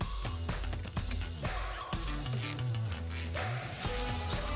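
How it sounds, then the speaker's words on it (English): A ratchet fitted with a 10mm socket loosens a hose clamp on a Toyota Tacoma during a TRD air intake install, giving a close, continuous run of rapid clicking. "we're gonna go ahead and remove our first hose clamp using a 10mm socket."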